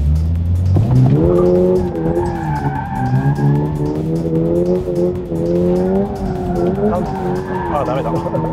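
A car drifting on a circuit, engine harmonics sweeping up and down while tires squeal continuously across the whole stretch, loud and close with no speech.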